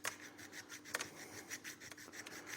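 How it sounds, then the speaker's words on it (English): Hand sanding of a handmade wooden piece, a steady run of short raspy rubbing strokes repeated at an uneven rhythm, close and fairly quiet with no talking. "you guys have seen enough sanding"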